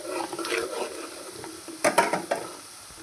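Coriander seeds and cumin dry-roasting in a pan are stirred, giving a soft rattling rustle with a few sharper scraping clicks of the spoon partway through, close and without talk.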